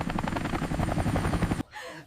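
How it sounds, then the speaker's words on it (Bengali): Helicopter in an animated cartoon scene, its rotor blasting away piles of straw: a loud, steady, rapid rotor chop for most of the moment, cutting off abruptly and giving way to a quieter, different sound. "আলু ভাই তো হেলিকপ্টার দিয়ে আমাদের সব খড় উড়িয়ে দিচ্ছে"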